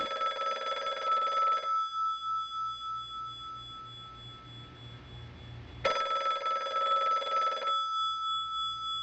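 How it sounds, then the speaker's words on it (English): A telephone bell rings in two loud, trilling bursts of about two seconds each, separated by a quiet pause of several seconds and heard alone without any talking. "Will someone answer the goddamn phone?"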